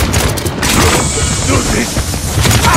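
Gunfire in the Paladins PC shooter is a dense, continuous clatter of shots and blasts, loud and close, with in-game voices mixed in.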